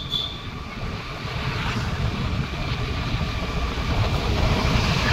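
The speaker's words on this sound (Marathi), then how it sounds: "बघा गाड्या बघा कसल्या भारी भारी जातात" Vehicles rushing past on a highway near Khed, a steady, fairly loud roar of traffic that swells slightly as heavier vehicles go by, with no talking.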